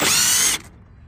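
Power tool driving out a headlight mounting bolt on a 2008 Scion xB: a loud, close, steady whirring burst lasting about half a second, then stopping abruptly into quiet.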